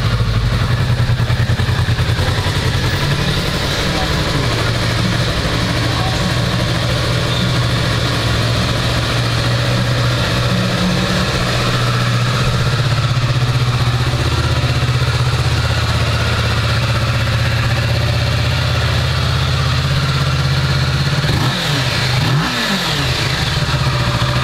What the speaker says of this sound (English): Let's go ahead and fire it up and listen how it sounds